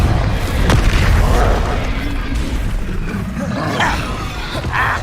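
A Confringo fire spell blasts in the Hogwarts Legacy video game, a loud booming roar with a sharp crack near the start and rumbling bursts that follow, set within a dense, steady wash of game noise.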